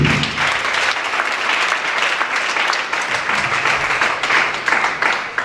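A church congregation applauding together, with dense and steady clapping that stays loud throughout and swells slightly toward the end.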